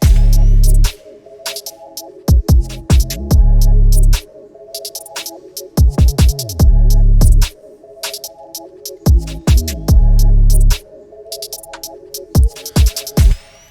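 A hard UK drill beat built in FL Studio 20 plays loud and alone, with booming sliding 808 bass, skittering hi-hats and snappy snares over a dark melodic loop, dropping out and returning in repeating bars.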